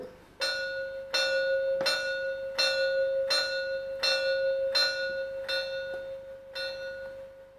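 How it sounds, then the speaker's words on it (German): A bright model steam locomotive bell on a Gauge 1 class 56 rings steadily about nine times in an even rhythm, each strike sustaining into the next, loud and close with no other sound. "Eine Glocke."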